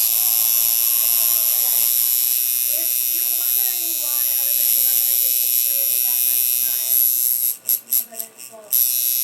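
A Chinese tattoo machine buzzes steadily at too high a voltage, a constant high-pitched electric whine that sputters and cuts in and out near the end, with someone talking over it.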